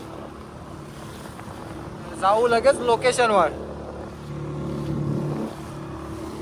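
A fishing boat's steady low engine drone runs throughout with wind noise at sea, while someone speaks briefly over it in the middle.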